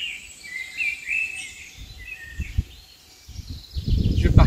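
Birds singing in a French forest near the Chevreuse valley, several chirping and trilling calls at moderate distance, with some rustling and low thumps toward the end.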